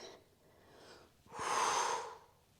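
Slow breathing during a Pilates stretch, a soft inhale followed by a longer, louder exhale through the mouth, close and alone with no talking.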